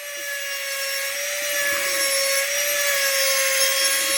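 A small Harbor Freight carbide burr in a rotary tool side-cuts into wood, producing a loud, continuous high-pitched whine layered with close grinding and rasping.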